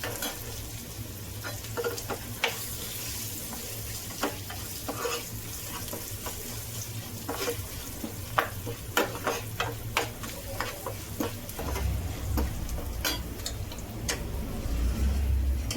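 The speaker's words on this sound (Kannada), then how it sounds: "ಇನ್ನೂ 1 ನಿಮಿಷ ಹಿಂಗೆ ಕಲಿಸಿ ಒಗ್ಗರಣೆ ಕೊಟ್ಟರೆ ಆಯಿತು" Garlic, dried chilies and onion sizzle in hot oil in a pan for a sambar tempering, a steady close crackling hiss with scattered ticking pops and occasional stirring scrapes.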